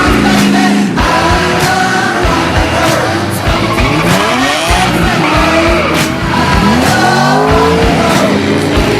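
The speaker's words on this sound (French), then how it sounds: "Regardez derrière moi, on est à une course de drague." Race cars at a drag race scream past with rising and falling engine whines and sweeping pitch shifts, tires squealing, loud and close, with cars overlapping one after another throughout.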